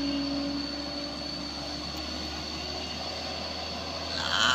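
An empty tanker truck's engine drones loud and steady as it powers up the steep, extreme Kedabuhan grade toward Sinabang, a continuous low roar that swells slightly at the end.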